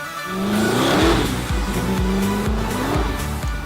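A 1,000 horsepower Corvette street car revs hard, its engine note climbing and dropping with repeated throttle blips and a squeal of tyres, loud and close with no talk.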